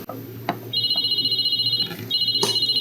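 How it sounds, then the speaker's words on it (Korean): A telephone rings indoors in a repeating electronic ringtone pattern, two long bursts with a short gap, over a quiet room with faint background noise and a couple of soft knocks. "오, 전화 온다."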